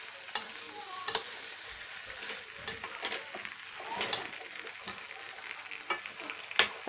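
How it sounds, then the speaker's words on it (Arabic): Food sizzles in a frying pan while a spoon scrapes and stirs it, giving irregular clanks and scrapes over a constant hiss, close and clear with no talking. "هنقلبهم مع بعض تقليبه كويسه"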